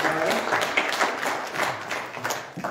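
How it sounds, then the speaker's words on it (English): A church congregation applauds a couple's 50th wedding anniversary during a Sunday worship service, with a steady, fairly soft wash of many hands clapping that fades slightly toward the end. "So give them a round of applause."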